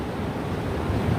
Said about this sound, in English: We're fighting against the waves, though.